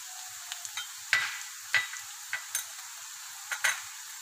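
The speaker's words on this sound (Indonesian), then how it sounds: "masukin bawang putih cincangnya. Ini kita tumis dengan minyak yang lebih banyak." Minced garlic fries in plenty of oil for Pontianak choi pan, a soft, steady sizzle broken by several sharp clicks and taps of a utensil against the pan.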